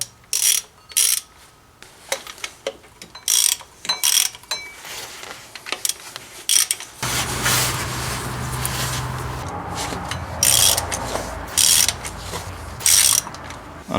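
A ratchet wrench tightens water pump bolts on a Dodge Ram, giving bursts of rapid clicking separated by short pauses, close and loud, with a denser mechanical rattle through the second half.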